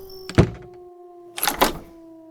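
In a radio drama, a door shuts with a solid thunk, followed a second later by a rattling clunk of the lock, close and clear, with a steady hum underneath.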